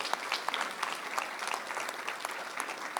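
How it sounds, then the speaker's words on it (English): Applause from a crowd at a school board meeting, honoring Mila Wagner: a steady, moderately loud wash of many hands clapping together, with no voices over it. "give Mila Wagner a big round of applause"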